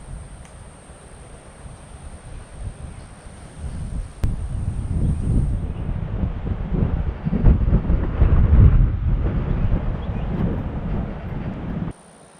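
Strong wind in a garden roars and buffets the microphone, building from a low rumble into loud, gusty blasts before cutting off abruptly.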